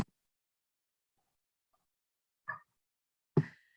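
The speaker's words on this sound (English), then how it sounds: "So when they encounter a food of high quality, you'll hear a grunt that sounds like this." Short, faint primate food grunts in near silence, given on finding high-quality food: a quiet one followed by a louder, low grunt.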